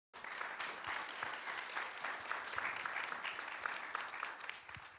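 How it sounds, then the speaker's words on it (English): An audience claps steadily to welcome the panelists at a tech policy event, a dense, even wash of applause lasting throughout with no voices over it. "please join me in a round of applause to welcome our panelists"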